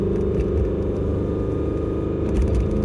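A Corvette C5Z with modified suspension gives a deep, loud, steady exhaust rumble at close range, throbbing slightly with a couple of swells, with no voices.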